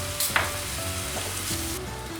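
Turmeric masala with kokum roasting in a pan for prawn masala, a steady close sizzle broken by a few scraping stirs and spoon knocks, with no voices.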